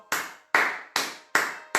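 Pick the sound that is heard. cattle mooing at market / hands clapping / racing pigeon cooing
hands clapping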